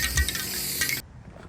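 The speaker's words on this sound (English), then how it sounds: "All it's left to do is to spray the Plasti Dip." A spray can of Plasti Dip hisses steadily as rubber coating is sprayed onto taped-up car chrome trim, a close, continuous aerosol rush for about a second before cutting off abruptly.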